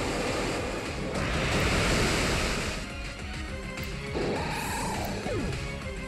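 Waterfall, the water attack from the Pokemon Alpha Sapphire battle game, lands as a roaring surge of rushing water with a crashing hit. A steady, loud wash runs for several seconds and then eases into a swishing sweep at the end.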